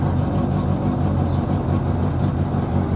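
A Triumph Spitfire engine idles on the choke at a low, steady rpm, a continuous close rumble with no change in pitch over the few seconds, no one speaking.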